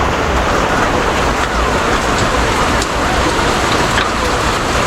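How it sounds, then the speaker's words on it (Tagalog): Heavy rain pours down steadily over a construction site, a loud, dense and unbroken hiss with no voices. "Umulan."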